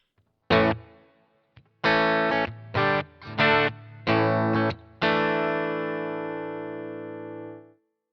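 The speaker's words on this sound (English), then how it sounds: "So here's with the reverb." Distorted electric guitar through a Boss GT-1 plays a few chopped chords, then a final chord rings out with a lingering reverb tail that slowly fades.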